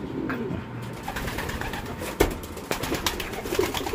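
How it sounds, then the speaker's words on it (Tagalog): Pigeons in cages make soft, low cooing calls close by, with a few louder coos and some light rustling and shuffling, and no talking. "Tingnan natin mga kalapatids dito"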